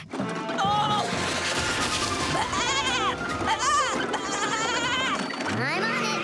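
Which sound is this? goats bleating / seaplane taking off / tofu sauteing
goats bleating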